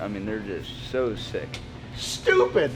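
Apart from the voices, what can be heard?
No distinct noise like a dog, phone or traffic.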